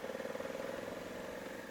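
A motorcycle fitted with AltRider upper and lower engine guards putters along at low speed, its engine a steady pulsing throb at moderate volume.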